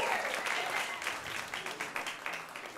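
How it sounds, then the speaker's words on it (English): A comedy club crowd gives a stand-up act a round of applause, dense clapping that stays full, then thins slightly toward the end, with a little speech mixed in. "that was a robust applause for naps"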